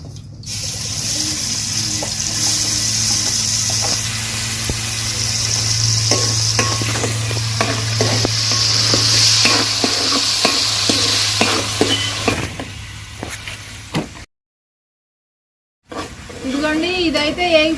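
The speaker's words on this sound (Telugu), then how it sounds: "ఇదిగోండి ఉల్లిపాయ టమాటా పేస్ట్ అంట వేస్తున్నాను" Onion and tomato paste sizzles in a pan while being stirred for an egg dum biryani: a steady close hiss with scraping stir strokes, a brief silent gap near the end, then a short voice.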